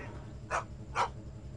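Dog barking in the video game Leisure Suit Larry 7: two short, sharp barks about half a second apart, moderately loud over a low game background hum, with no talk.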